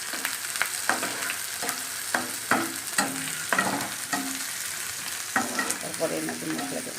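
Onions fry in hot oil in a pan until reddish, a continuous close sizzle broken by regular scraping stirs.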